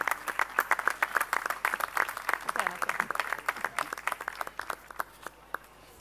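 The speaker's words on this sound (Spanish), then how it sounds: "Pido por favor un fuerte aplauso para Jessica." An audience applauds at a sport-and-health round-table session during a sports week: a dense, lively burst of many hands clapping that carries for several seconds, then thins out and fades.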